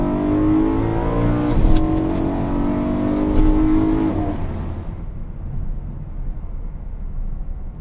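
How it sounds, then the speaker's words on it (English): A 2011 BMW M3 convertible with a 414 horsepower engine accelerates at full throttle, its engine note rising loud and close for about four seconds before easing off into a lower, steadier rumble. "here's the full throttle run"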